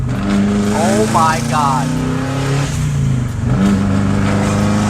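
A 2002-07 Subaru WRX engine revs hard under boost, pitch climbing quickly and then holding a steady, loud drone close by, with a short excited exclamation from a person partway through.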